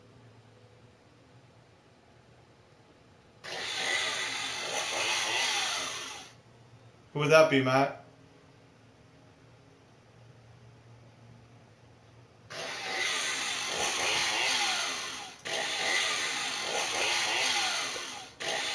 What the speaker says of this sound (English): The old chainsaw's firing up here.